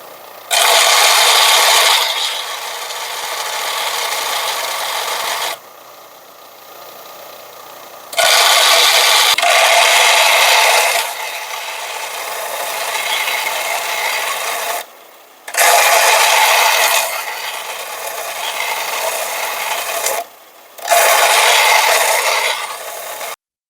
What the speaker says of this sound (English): So I ended up having to grind it anyway.